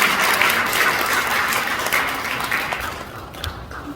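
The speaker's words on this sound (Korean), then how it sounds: "큰 박수" Dense, steady applause from a congregation at a Korean church leaders' inauguration thanksgiving service held in a buffet hall, many hands clapping at once and slowly fading toward the end.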